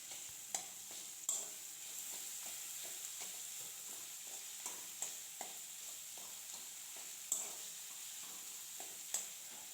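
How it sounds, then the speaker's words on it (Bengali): Chopped tomato and ginger fry quietly in a pan for an egg and cauliflower dish, a soft steady sizzle broken by occasional clicks and scrapes of stirring, close and fairly faint, with no talking. "আদার সঙ্গে টমেটোটা খুব ভালো করে ভাজা করে নিতে হবে"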